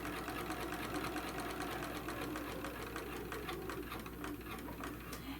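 A sewing machine runs steadily, stitching across the top of a tote bag panel in one continuous, even whir at close range with no talk.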